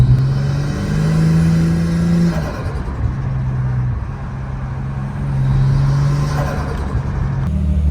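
Nissan Skyline R34 with a straight-through exhaust drives past at close range, its engine droning loud and steady with rising and falling revs and throttle changes, and no talking over it.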